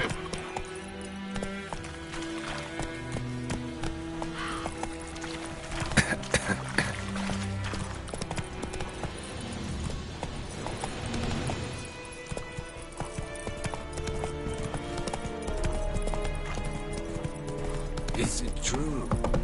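A horse gallops in the Witcher 3 video game, with rhythmic hoof clip-clops running under game music and effects, while voices speak over it at times.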